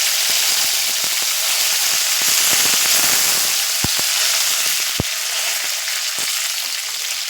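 Cumin seeds dropped into hot oil with mustard seeds in a traditional home kitchen, a loud steady sizzle and crackle with a few sharp pops as the seeds burst.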